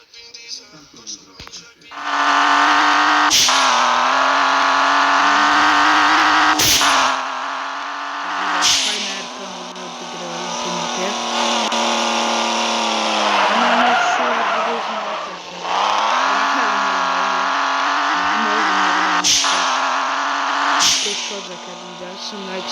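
A car in the video game Simple Sandbox 2 drives and skids with a loud, steady engine drone and tire screech, broken by brief sharp clicks.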